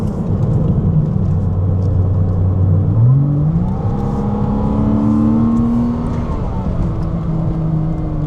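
A Porsche Cayman on a racing track pulls through gears, with a low engine drone climbing in pitch, a brief shift, then another rising surge and steady note under faint cabin noise.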